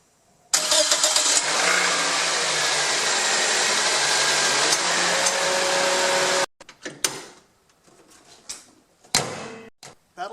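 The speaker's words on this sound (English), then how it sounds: "Now I'll check and make sure that the car starts properly." A 2007 Pontiac Vibe engine cranks and catches right after a battery replacement, then runs at a steady, loud idle for several seconds before cutting off, followed by a few scattered knocks and thumps.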